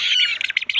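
Six-month-old purple swamphen (kalim) chicks give a quick burst of shrill, close squawks and chirps with no other sound behind them.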